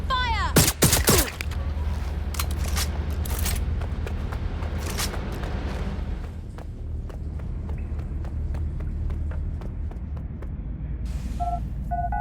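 Video game gunfire from Watch Dogs Legion: a sharp burst of several close shots early on, then scattered fainter pops over a steady rumbling ambience, with voices talking now and then.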